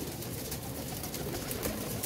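Pigeons in a loft, bred for pure lines, cooing softly and continuously at close range over a busy, rustling background, with no talking.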